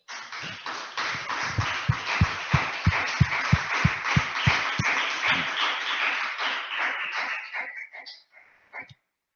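A church congregation claps together in a steady, rhythmic beat that swells into a loud burst of applause, then thins out and fades over several seconds, with no voices over it.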